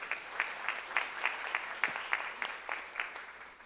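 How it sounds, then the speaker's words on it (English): Scattered hand claps from an audience at a school board meeting, a sparse, uneven patter of individual claps rather than a full ovation, moderately close. "Round of applause for Bella Caldera."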